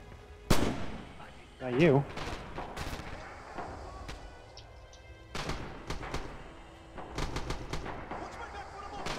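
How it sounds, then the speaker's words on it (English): Anti-aircraft guns firing in the video game Red Orchestra 2 on a snowy Winterwald map: scattered sharp booms and bursts, some loud and close and others farther off, with brief talk in between. "These are anti-aircraft guns."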